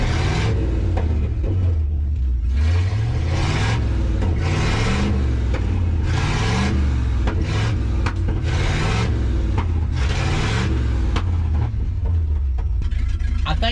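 A 1963 Loadstar truck's engine revs in repeated surges, with loud low rumbling swells recurring every couple of seconds as the vehicle hops, heavy and close throughout.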